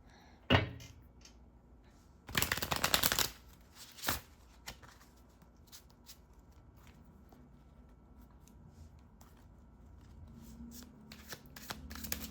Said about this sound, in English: Let's shuffle it.